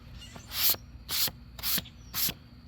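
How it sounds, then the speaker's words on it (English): Four rhythmic scratchy strokes of sandpaper rubbing paint on an Estes Hi-Flier XL model rocket body, close and evenly spaced, with quiet pauses between passes; the paint powders rather than cakes. "This is sanding really, really good"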